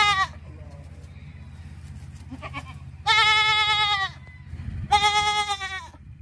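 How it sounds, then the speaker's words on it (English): A goat bleats loudly three times, one call at the start and two long wavering calls later, over a steady low musical backing. "G for goat."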